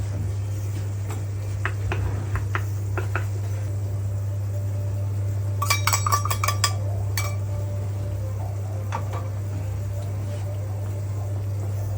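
A utensil stirring menemen, Turkish scrambled eggs with tomato and pepper, in a pan gives scattered light clinks and ticks, with a short cluster of sharper taps midway, over a steady low electrical hum.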